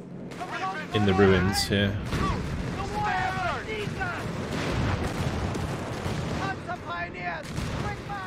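Infantry gun indirect fire in Company of Heroes 3 during an Africa campaign mission, booms and rumbling explosions layered with battle noise under someone talking throughout.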